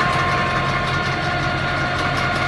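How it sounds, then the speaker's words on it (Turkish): A 55 kW PTO-driven generator runs off a tractor's power take-off in a village setting, giving a steady, loud mechanical drone with a low engine rumble and constant hum, close and unbroken throughout. "şu anda jeneratör traktör kuyruk yığıyla 55 kova 25 HP motor top"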